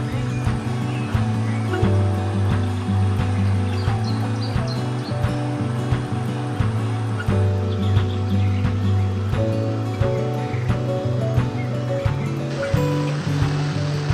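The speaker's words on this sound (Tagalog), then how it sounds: "naririnig mo ang mga agos ng tubig" River water flowing beside a campsite, a steady close rushing and churning wash that runs without pause under a low constant rumble.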